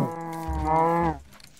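A cow in the Minecraft video game moos once, a loud, drawn-out lowing call lasting about a second, heard alone and close.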